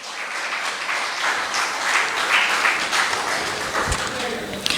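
An audience breaks into applause at a speech in South Central Windward, St. Vincent, a dense burst of clapping that fills the moment, with a voice speaking faintly alongside.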